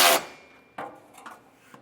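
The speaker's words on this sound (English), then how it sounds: "bring your ratchet up with the 18mm socket and just snug them down" A ratchet with an 18mm socket snugs down trailer hitch bolts on a 2025 Mazda, a loud close metallic strike followed by a few quick clicking turns, no talk.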